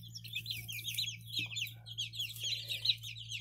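Bantam and Americana chicks cluck and peep continuously, a busy flurry of small high chirps and clucks close by over a low steady hum.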